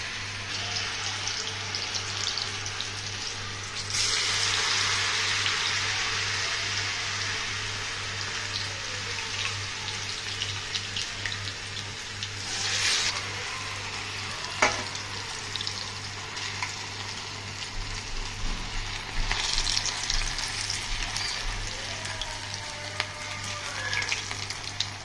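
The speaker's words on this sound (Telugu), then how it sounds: "వేసేద్దాం బజ్జీలు. నూనె కాగిపోయింది చూడండి." Fritters fry in hot oil with a constant low hiss over a steady hum, swelling into brighter, louder bursts of sizzling as batter drops in.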